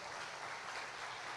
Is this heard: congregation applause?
yes